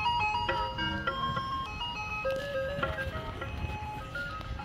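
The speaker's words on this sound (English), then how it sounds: "He's never experienced an ice cream truck before." Ice cream truck jingle playing on a street, a steady melodic chime tune repeating loudly and continuously with background street noise, no talking.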